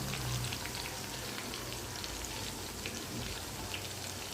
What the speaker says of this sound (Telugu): చూడండి, ఇప్పుడు ఫ్రై చేసుకుంటున్నాం.